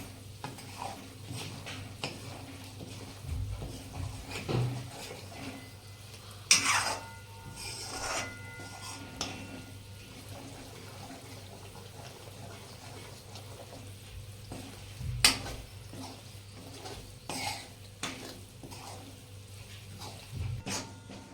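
Garlic fries slowly in a pan over low heat for a spicy garlic chutney. A faint sizzle runs throughout, broken by soft scraping and stirring knocks from a spoon against the pan.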